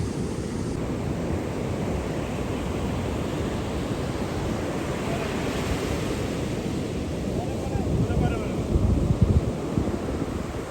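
Ocean waves wash onto a beach in a continuous rushing roar mixed with wind buffeting, swelling slightly louder toward the end.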